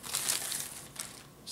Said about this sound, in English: Plastic bag. Wrapped in another plastic bag.